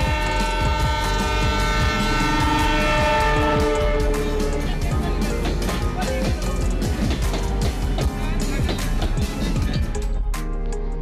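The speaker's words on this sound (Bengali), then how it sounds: "বিকালবেলা আমরা রেল স্টেশনে যেতে না যেতেই ট্রেন হাজির।" A train arrives at a railway station near Paksey on an afternoon, with a loud, continuous rumble and long horn-like tones carrying steadily throughout before easing off at the very end.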